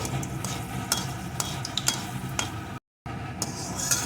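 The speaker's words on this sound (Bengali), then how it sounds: "একটা তেজপাতা একটা শুকনো লঙ্কা একটু পাঁচ ফোড়ন এখন ফোড়নটা সুন্দর করে প্রথমে ভেজে নেব" A bay leaf, a dried chili and a pinch of panch phoron fry in hot oil, a steady soft sizzle broken by the light scrape and tap of a spatula, with a brief dropout of silence partway through.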